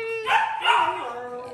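A puppy gives two short, high yipping barks close by, followed by a fading whine, with soft household background.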